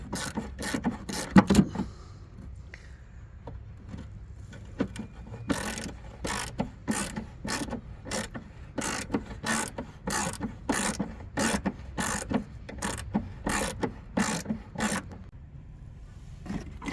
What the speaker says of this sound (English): Clean the area where the bolts sit, so you don't get sand in your eyes.